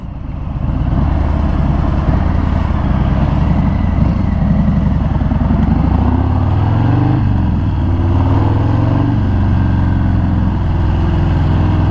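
A 2018 Harley-Davidson Fat Bob Black Denim rumbles steadily while being ridden, a loud, continuous low engine drone with wind noise and slight shifts in pitch as it changes speed, no talking.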